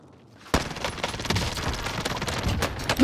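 Automatic gunfire in Warzone's Rebirth Island mode, a sudden burst of rapid repeated shots starting after a short quiet moment and continuing loud and close in a sustained fusillade.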